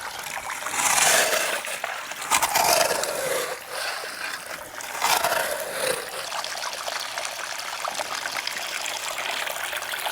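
Water trickles and splashes through a gold prospecting sluice as dirt is washed, a soft, continuous flow with a few brief louder pours swelling and fading.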